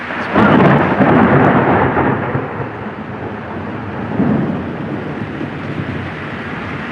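Deep rumbling thunder rolls through a rainstorm, a loud sustained peal at first that fades, then a second swell of rumble over steady rain hiss.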